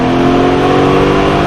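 A supercar accelerates hard on a track in Las Vegas, its engine droning loudly and steadily close up for the brief moment.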